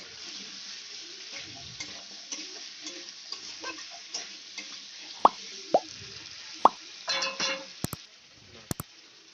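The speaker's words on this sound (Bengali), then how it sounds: "আলুটা আমি ভালো করে কষিয়ে নেব।" Potatoes frying in a pan, with a broad steady sizzle under a series of sharp plops, clicks and scrapes from stirring, growing busier toward the end.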